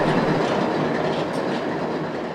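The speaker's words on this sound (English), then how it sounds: "The sounds of the train in town" A train rolls through a small town of Creston, with a loud, steady rumble and rhythmic clickety-clack of wheels on rails filling the whole stretch up close.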